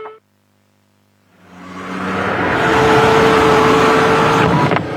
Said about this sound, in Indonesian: Hati-hati, mobilmu sedang melaju kencang loh.